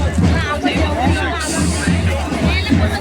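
Busy babble of customers at sweet stalls during a Konkan village goddess fair, many voices overlapping near the listener in a steady crowd murmur.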